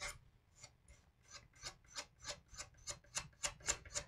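A hand scraper rasps across a wood carving in about a dozen short, rhythmic strokes, close and fairly quiet, each stroke growing a little sharper toward the end.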